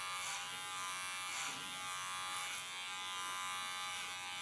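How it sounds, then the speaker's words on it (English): Electric hair clipper cutting thick, strong hair during an asymmetric bob haircut, a steady close buzzing drone with slight shifts in pitch and strain as the blades work through the hair, no talking. "Because the clipper has to work on her."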